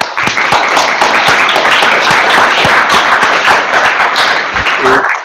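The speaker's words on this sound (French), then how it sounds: "On vous applaudit." Dense applause from a conference audience after a junior researcher's presentation, steady and loud throughout, with scattered sharp individual claps standing out near the end.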